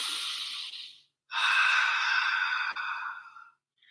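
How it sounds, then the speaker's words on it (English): Two long, deep breaths taken close by during a wrist-stretching exercise, each a broad airy rush of several seconds separated by a short silence, with the start of a third at the end; no talking. "I'm just taking deep breaths 3 times."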